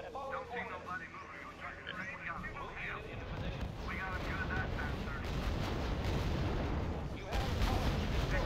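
Distant gunfire and artillery rumble build steadily in the RUSE war strategy game, a dense low roar with scattered crackling bursts, growing louder toward the end while a radio-style voice speaks early on.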